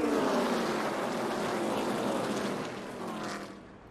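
NASCAR Xfinity stock cars at Pocono racing down into turn 1 as a pack, a steady dense engine roar at a distance that fades slightly near the end.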